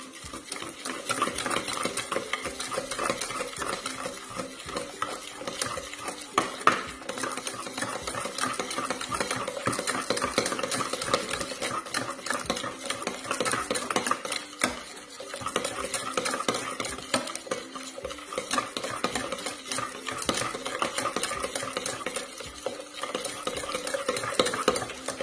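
Sugar is beaten into apple cake batter in a bowl, a steady, rapid scraping and clicking of a spoon or whisk against the bowl that runs on continuously and close up.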